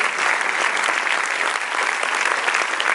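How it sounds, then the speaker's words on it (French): Festival audience applauding steadily and loudly throughout, a dense, continuous wash of clapping from a large crowd with no pauses. "je voudrais que vous m'aidiez à applaudir et à saluer la présence de Jenny Schatzberg"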